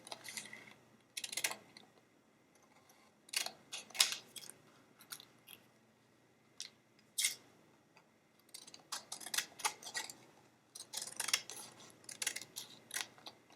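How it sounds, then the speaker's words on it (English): Scissors snip through paper while a greeting card is made, crisp close cuts arriving in uneven clusters of quick snips with short pauses between, no talking. "I'm going to cut it a little bit right along here."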